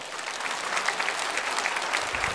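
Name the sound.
church congregation applause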